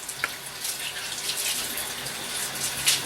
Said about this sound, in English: So now you can rinse it off and tell me what you think.